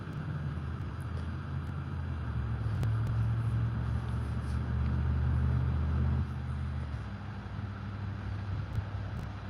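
Cars pass along a roadside shoulder near a carp fishing spot, a steady low traffic rumble swelling in the middle and easing off, with wind buffeting the microphone throughout.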